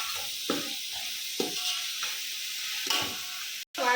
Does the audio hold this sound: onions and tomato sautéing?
yes